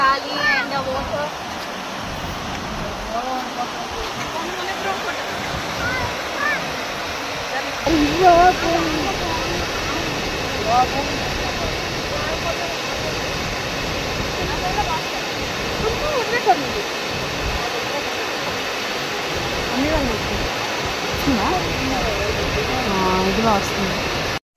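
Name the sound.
Ethipothala waterfall rushing water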